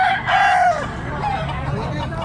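A rooster crows once nearby, loud and drawn-out at the start, then fades into a quieter background with faint low murmurs.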